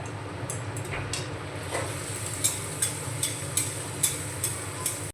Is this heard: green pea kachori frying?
yes